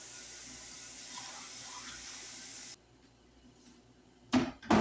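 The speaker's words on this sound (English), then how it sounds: "So I'll cover it with just an inch of water." Tap water runs steadily into a crock pot of beans, a continuous hiss that stops partway through, followed by a couple of short clunks near the end.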